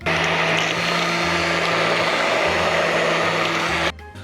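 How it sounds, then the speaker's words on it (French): Blender whirring as it mixes vegan cherry clafoutis batter, a loud, steady high-pitched motor whine with a stable hum that runs continuously and then cuts off abruptly near the end. "Ou un petit coup de blender,"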